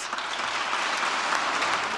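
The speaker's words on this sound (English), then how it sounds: "The governor's call for major improvements to school infrastructure received a bipartisan round of applause Tuesday night" A large legislative chamber fills with a dense, sustained round of bipartisan applause for the governor's speech, steady and loud throughout.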